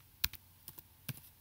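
A computer keyboard clacks with a handful of quiet, irregular keystrokes in a brief moment of data entry, with no voice over them.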